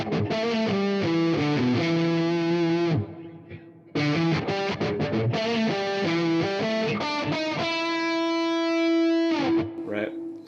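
Bass guitar through a Pitchfork+ pitch shifter set with delay and reverb, pitched up into guitar range; bright, distorted phrases of repeated notes, a short pause, then more riffs ending on a long sustained note with trailing echo.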